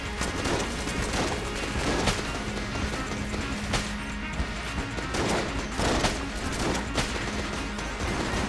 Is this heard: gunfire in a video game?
yes